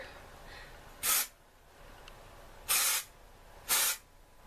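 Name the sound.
dry shampoo aerosol spray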